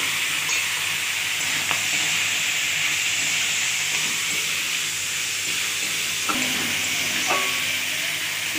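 Mutton fries with chopped tomato in a pan, giving a continuous loud sizzle and hiss with occasional scraping stirs and clinks of a utensil.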